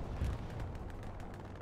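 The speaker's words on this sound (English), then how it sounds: "Curious what the explosions are back there. A little bit of artillery dropping for some reason." Artillery shells landing in the World War II shooter game Hell Let Loose, a low rumbling series of distant booms rolling on over a continuous battlefield din.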